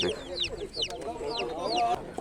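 A rooster for sale at an outdoor poultry and livestock market in Michów crows nearby, its calls rising and falling amid clucking hens and market bustle.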